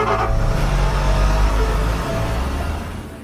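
A car pulls forward, its engine humming steadily and close before gradually fading over a few seconds.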